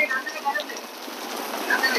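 Rain falls steadily on a shop-lined street in Jaffna, a constant close hiss with faint voices underneath.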